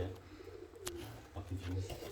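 Homing pigeons give low, soft cooing calls close by, with a few brief sharper noises and some background voices.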